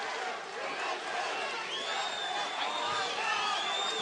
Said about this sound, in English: Let's take a minute and just listen to the crowd enjoying the action.